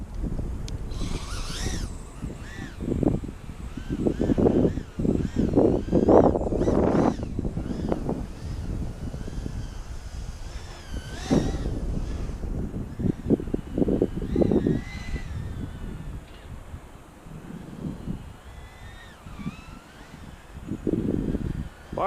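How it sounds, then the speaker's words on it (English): Steady, gusty wind buffets the microphone outdoors where a micro drone is flying, rising and falling in broad rumbling swells with faint higher whooshes throughout. "it's quite windy right now"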